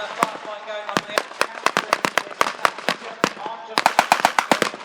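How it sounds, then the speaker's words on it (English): Rapid volleys of blank gunfire crackle from a WWII battle reenactment display at Tankfest, sharp loud reports in irregular bursts and quick clusters, with a faint voice underneath. "Most of the infantry has been distracted by the firefight going on the"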